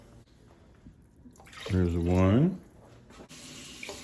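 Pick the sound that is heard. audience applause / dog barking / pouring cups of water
pouring cups of water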